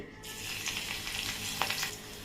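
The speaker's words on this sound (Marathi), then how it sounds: "मी अजून एक मिरची चिरून घेतली आहे ती पण आता तेलामध्ये घालून घेते" Chopped green chilli frying in hot oil, a close, steady crackling sizzle with a brief sharper pop near the end.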